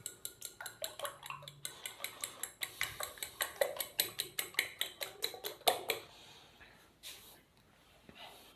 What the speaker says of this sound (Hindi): 4 अदद मैंने अंडे लिए हैं। अंडों को हमने अच्छी तरह फेंट लेना है।